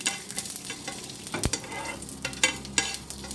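An ingredient for fruit raita sizzles in a hot pan while it is stirred, giving steady close frying crackle broken by scraping strokes and a sharp knock.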